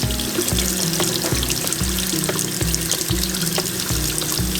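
Water gently running over food being rinsed for preservation, with a steady close wash of flowing water and a faint low hum pulsing underneath, no voices.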